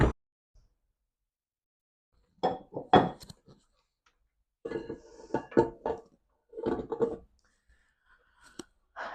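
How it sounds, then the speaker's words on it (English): A whisk beats butter and icing sugar together in a bowl in short bursts of clicking and scraping separated by silent pauses, close and fairly quiet, with no talking. "And we're going to beat it together with the whisk, not the beater."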